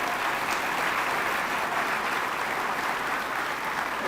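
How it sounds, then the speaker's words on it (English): A crowd at a Founder's Day ceremony applauds past award recipients, with sustained, even clapping from many hands that fills the hall and carries on without a break. "please applaud all these past recipients for me"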